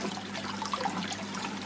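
Eheim Aquaball 60 aquarium filter pumping water out of its outlet, a steady close splashing and trickling rush that holds at an even level throughout.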